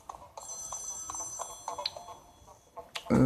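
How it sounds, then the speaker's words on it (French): Telephone ringing in the Splatoon 2 video game, a bright electronic bell tone sounding in short repeated bursts over quiet game ambience, growing louder near the end. "Il y a un téléphone qui sonne."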